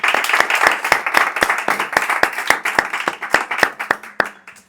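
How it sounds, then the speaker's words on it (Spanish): Audience clapping at a live singing event in Logroño, a fast scatter of individual hand claps close by that swells briefly and tapers off toward the end, with no talking over it. "Un aplauso, por favor, que se haga."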